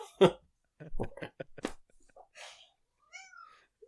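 A cat meows a few times in short, close bursts, with quiet gaps between the calls.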